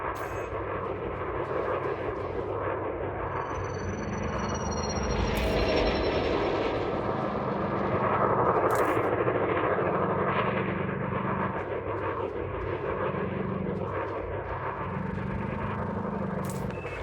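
A spaceship in Elite Dangerous, a space flight video game, pitching, yawing and rolling: a steady loud engine roar with swelling thruster surges and a few short sharp bursts, with no talk.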